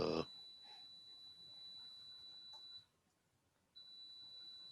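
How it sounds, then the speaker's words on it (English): A steady high-pitched electronic beep, likely from a computer, sounds continuously, drops out for about a second, then resumes at the same pitch against a quiet room. "What is that beep noise?"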